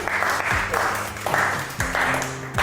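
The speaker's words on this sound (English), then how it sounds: "give James a big round of applause." A live audience at a mind-reading stage show applauds in bursts of clapping that swell and ease, with a low voice or music underneath throughout.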